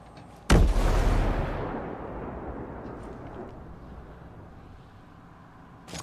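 A grenade explodes in the online shooter Ghost Recon Breakpoint during a 4v4 PvP match, a sudden loud close blast that fades into a long rumbling tail over several seconds.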